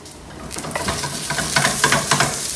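Onions frying in a pan for ratatouille crackle and sizzle loudly up close, with stirring scrapes and sharp spatters growing busier toward the end.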